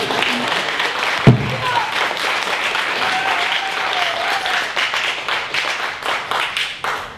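Steady applause from a crowd at a Korean shamanic gut ritual fills the whole stretch, with a brief sharp knock early on and faint voices mixed in.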